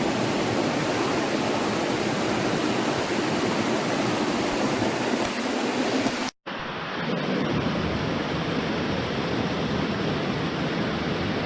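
A 20-foot waterfall at Kinlock Falls, Alabama, roars in a steady, dense rush of broadband noise, loud and constant, with one abrupt brief cut midway.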